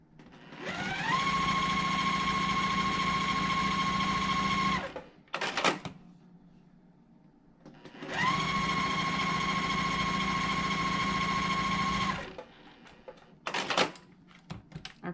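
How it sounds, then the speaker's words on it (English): Sewing machine stitching quilt pieces along both sides of a diagonal line, two long steady runs of fast whirring stitches, each starting with a quick spin-up, separated by short pauses with small clicks and handling noises. "we're going to stitch on both sides of the line"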